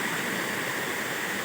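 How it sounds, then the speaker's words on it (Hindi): Gajpalla waterfall in Gariyaband, Chhattisgarh, gives off a steady, dense roar of falling water that stays even and unbroken throughout, with no voices over it. "और ये झरना यहाँ से गिरा थे"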